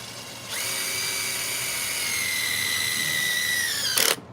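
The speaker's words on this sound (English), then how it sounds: "I'm having a really hard time drilling." A power drill runs steadily for several seconds, a sustained high whine close to the listener, then cuts off abruptly with a brief louder burst near the end while boring into material for a rotating-magnet apparatus.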